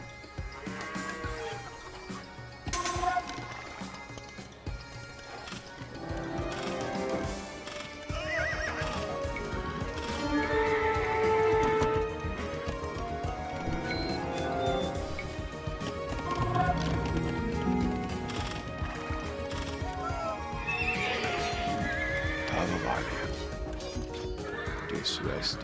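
Kipchak horse archers in Age of Empires II give repeated horse whinnies and neighs with clip-clopping hooves, mixed with game ambience and someone talking over them.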